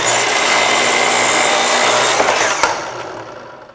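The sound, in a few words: slide arm saw cutting wood on saw table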